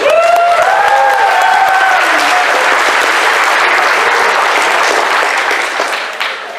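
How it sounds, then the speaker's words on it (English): A convention audience at a toy and Transformers fan event breaks into loud, sustained applause with some cheering and a brief whistle near the start, holding steady before tapering off at the end. "Give them a round of applause."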